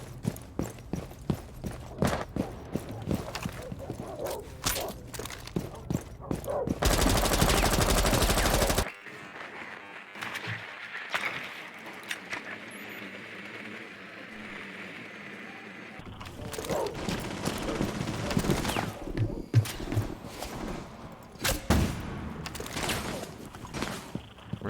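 Video game gunfire cracks in rapid bursts and single shots up close. It is broken by a long, harsh loud burst, then a quieter stretch with faint talk, before the firing resumes.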